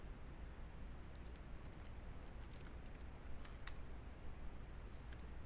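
Typing on a computer keyboard, a scatter of quiet rapid key clicks in short bursts over faint background hiss.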